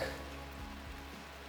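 Heavy downpour during a storm at a rural homestead, a steady dense hiss of rain pouring on surfaces, loud and continuous through the short moment with no voices.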